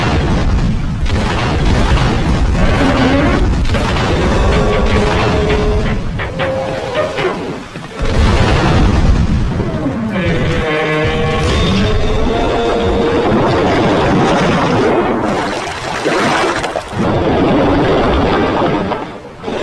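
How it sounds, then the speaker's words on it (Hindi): Cartel ship blown up in the video game GTA 3, a continuous loud rumbling blast with booming bursts and crackling debris over about twenty seconds, swelling and dipping without letting up. "फिर सैल्वाटोरे के ऑर्डर्स पे क्लाउड और 8 बॉल मिलके कार्टेल की शिप को उड़ा देते हैं"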